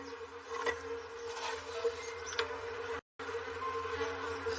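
Bees hum around an active, healthy frame hive in a garden, a steady busy drone with brief louder passes as individual bees fly close, continuing throughout with a short dropout.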